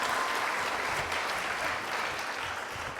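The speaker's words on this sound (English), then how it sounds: "Another round of applause for Coach Meadows" An audience at a lecture series applauds a coach in a sustained, even round of clapping lasting three seconds, dense and continuous without speech.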